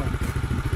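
A motorbike engine runs close by on an off-road trail ride, a fast, throbbing low-pitched putter with rattling clatter, steady and loud through the short stretch.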